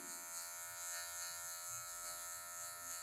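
A hair clipper trims long hair for a taper fade, with only the tip of the blade working. It gives a steady, close electric buzz that holds through the whole stretch without a break.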